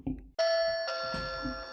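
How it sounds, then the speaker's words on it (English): An ANNKE Whiffle battery-powered video doorbell chime rings out, a bright two-tone melody with sustained ringing notes, heard alone and close. "that's what the doorbell's going to sound like when you press it"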